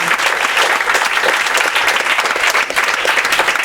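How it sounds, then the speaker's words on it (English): Applause from a bar audience for the night's storytellers, a dense, steady wash of many hands clapping close by, sustained and loud throughout with no talk over it. "give a round of applause for everybody who's told a story tonight"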